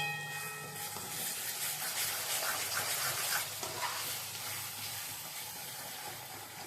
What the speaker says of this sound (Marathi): हे सर्व वाटण याच्यात टाकून चांगलं तेल सुटेपर्यंत भाजणार आहे